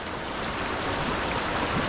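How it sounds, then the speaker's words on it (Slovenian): A waterfall in the Azores pours as a steady, broadband rushing hiss, continuous and moderately loud with no other sounds over it. "Kakšen slap."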